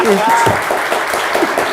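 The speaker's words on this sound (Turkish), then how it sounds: "sunucu için bir alkış alabilir miyiz?" A studio audience on the Turkish word game show Kelime Oyunu applauds the host, the steady clapping running throughout beneath a speaking voice.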